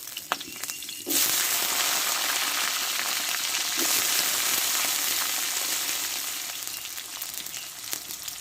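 Cut, washed hog plums (amra) drop into hot oil in a frying pan, setting off a sudden, loud burst of sizzling after a quiet moment. The sizzle then holds strong and steady, easing off slightly toward the end.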